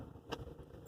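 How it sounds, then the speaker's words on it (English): A manual car gearbox shifted into second gear gives a single brief, close mechanical clunk over a low steady engine rumble. "I'll now engage to gear 2."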